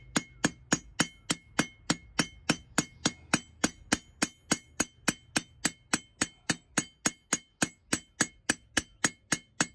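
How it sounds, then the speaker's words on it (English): A ball peen hammer peens a rivet on a forged Dutch oven spoon, about thirty evenly spaced, ringing metallic strikes in a steady rhythm, loud and close with no talk. "I'm gonna use a little bit larger ball peen hammer to get it started."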